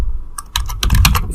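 Keys clatter on a computer keyboard as code is typed, a brisk run of close, sharp clicks after a brief pause, with no voices.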